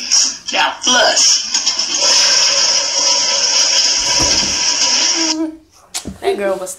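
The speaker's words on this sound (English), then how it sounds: "Now flush." A toilet flushes loudly in a long steady rush of water that fills most of the stretch, ending abruptly, with brief voices just before and after it.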